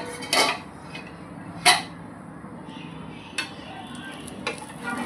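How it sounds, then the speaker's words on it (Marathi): A cooking pan's lid is lifted off after five minutes of covered cooking a quick breakfast snack in a home kitchen, giving a few sharp metallic clinks and clatters over a faint background sizzle. "झाकण काढून बघूया."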